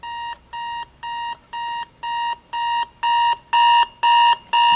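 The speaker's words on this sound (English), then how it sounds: "that's loud enough to wake me up" Scooby-Doo alarm clock ringing in rapid repeated beeping bursts, close by and alone, getting steadily louder as its volume is turned up.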